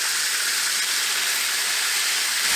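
Smothered chicken pieces brown in a hot pan, giving off a close, steady sizzling hiss that holds evenly throughout with no talking.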